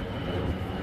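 Military aircraft, not a civil airliner, flying overhead at a Vietnamese temple in Da Nang, heard as a steady, broad, rumbling roar without clear peaks.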